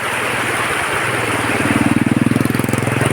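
A motorcycle engine approaches and passes close by, its low throbbing putter growing louder and more pronounced toward the end, over a steady background hum.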